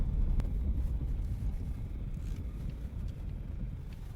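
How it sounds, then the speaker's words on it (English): Strong wind buffeting a microphone outdoors at a home building site, a loud continuous low rumbling roar with gusty swells and no voices. "it is super, super windy outside and I don't think you guys will be able to hear me"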